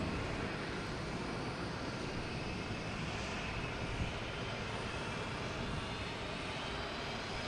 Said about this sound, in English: we have a JetBlue coming in from Nantucket, E190.